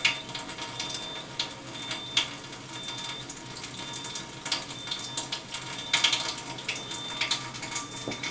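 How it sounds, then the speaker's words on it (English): Strong acid water pours from the gray hose of an Enagic SD501 Kangen water ionizer into a container, a steady, quiet, hissing stream with small bright ticks and spatters along the way, with no talking. "Now the strong acid water will actually come out of the gray hose"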